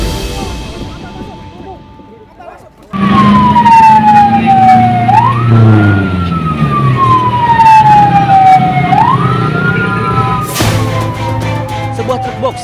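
A fire engine siren wails loudly in rising and falling sweeps as a fire truck races toward a burning box truck in Magelang, Central Java, with heavy engine rumble beneath and a sharp burst near the end.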